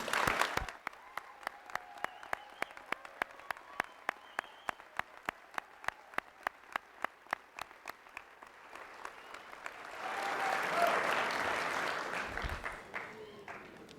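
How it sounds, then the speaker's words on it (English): Audience at a fall commencement ceremony clapping for graduates: a slow, steady rhythmic beat of unison claps at first, then swelling into a broad wash of applause and cheering. "And this time we're going to be clapping for you"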